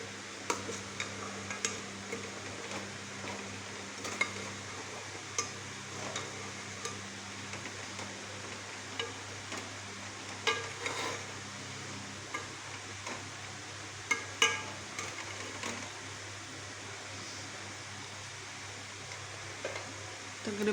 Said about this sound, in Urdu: اچھی طرح سے مکس کر دیں گے انہیں۔